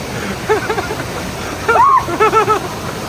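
Cold water pours steadily from a waterfall onto a camper in bear country, a constant splashing rush, while people talk and call out excitedly over it.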